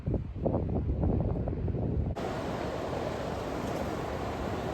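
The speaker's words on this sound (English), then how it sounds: "It is currently a bit windy down at the beach" Steady blustery wind at the beach roars against the microphone, with a rumbling, gusty texture at first and then a constant hissing rush.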